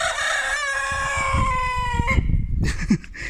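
A rooster crows loudly and close, a long drawn-out call, followed by a shorter crow and some clucking, with three roosters present including a feather-footed Brahma.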